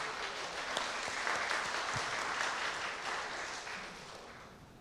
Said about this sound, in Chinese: 请李家咱做伙用掌声来多谢伊今日的着话